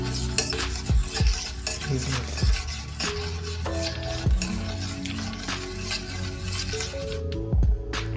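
Spoon stirring hot chocolate made with chocolate powder, hot milk, dates and almonds in a pot or cup, giving repeated close scraping clinks against the vessel at an uneven rhythm, with no talk.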